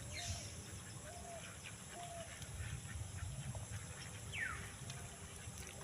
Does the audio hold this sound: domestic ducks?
yes